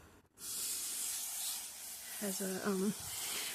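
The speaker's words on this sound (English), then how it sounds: "so I'll water that in straight away" Garden hose on a fine seedling nozzle setting watering in freshly sown autumn seedlings, a steady close hiss of spray running throughout, with a brief low murmuring voice near the end.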